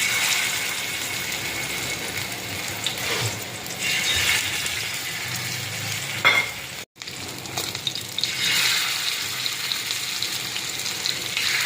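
Sankara fish, coated in chilli powder, salt and lemon, frying in a pan with a loud continuous sizzle and spatter that briefly cuts out before resuming.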